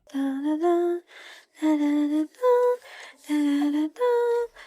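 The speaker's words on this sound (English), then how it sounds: "And music includes humming." A voice hums short sustained notes in a simple tune, with audible breaths between the loud, close phrases.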